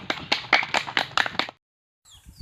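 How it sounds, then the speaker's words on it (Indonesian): Classroom hand clapping: about a dozen sharp, close claps in a quick uneven rhythm, then a pause and a faint high sound after. "Nah, tepuk tangan."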